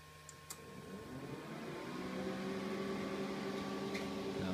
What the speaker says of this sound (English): we've got a fan in the door